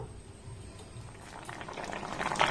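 Potato and pointed gourd curry simmering covered in a pot, a soft steady bubbling that builds slightly louder toward the end, close and quiet with no talk.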